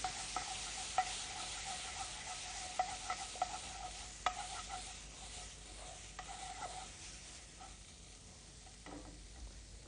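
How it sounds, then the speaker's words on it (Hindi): Finely chopped tomatoes sizzle with roasted coriander in a hot pan, a steady frying hiss with scattered light clicks from stirring that fades slightly toward the end. "और धनिया भूनने के बाद अब इसके अंदर डालें टमाटर, बारीक कटे हुए टमाटर"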